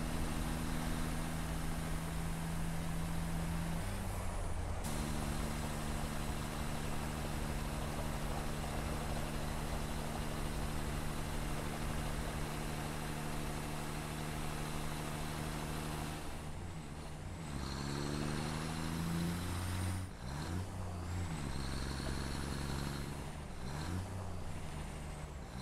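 A truck drives in the game Satisfactory, a steady loud engine drone with low harmonic hum running throughout, shifting pitch near the end as it changes speed, with no talk over it.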